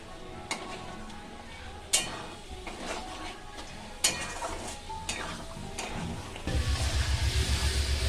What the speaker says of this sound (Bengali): আর লঙ্কার গুঁড়ো আমি এগুলো দিয়ে এবার আরেকবার কষিয়ে নেব